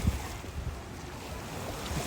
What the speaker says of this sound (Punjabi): ਛੱਲਾਂ ਚੈੱਕ ਕਰੋ ਕਿਦਾ ਬਾਈ ਜੀ ਪਾਣੀ ਦੀ